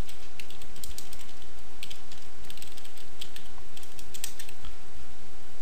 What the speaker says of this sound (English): I could actually type in a comment.